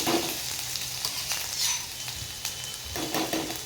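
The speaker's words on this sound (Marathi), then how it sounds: "सर्वात आधी तेल गरम झाले, त्यात आलं लसूण मिरची याचं भरपूर वाटण घालून घेणार आहे." Ginger, garlic and chilli paste hits hot oil for a fish curry, giving a steady close sizzle and hiss with a few brighter spatters and stirring scrapes throughout, no voices.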